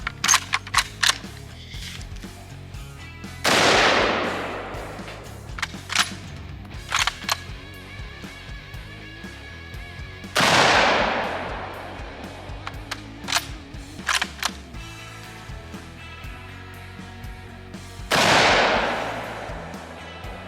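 A rifle fires steel-penetrator 7.62x54R rounds at a cast iron Peerless 2300 transmission outdoors, with three loud, sharp shots about seven seconds apart, each with a short ringing decay, and small clicks and handling noises between them.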